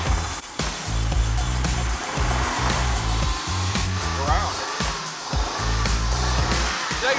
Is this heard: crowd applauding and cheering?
no